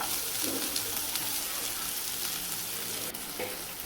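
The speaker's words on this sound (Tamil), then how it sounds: "கட் பண்ணி வச்சுருக்க வெங்காயத்தை நீங்கள் சேர்த்துக்கோங்க சேர்த்துட்டு நல்லா கிண்டி விடுங்க வெங்காயம் நல்லா வேகட்டும்" Chopped onions frying and being stirred in a pan for egg bhurji, a steady close sizzle with faint scraping stirs, no talking.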